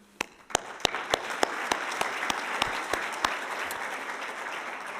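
Audience applause at a health and ethics awards ceremony, a full, dense round of clapping with a few sharp claps standing out near the front, steady for the whole stretch.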